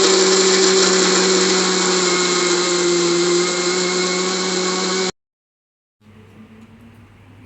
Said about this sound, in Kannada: ನಾನೀಗ ಇದನ್ನು ಮಿಕ್ಸರ್ಗೆ ಹಾಕೋತಾ ಇದ್ದೀನಿ ರೀ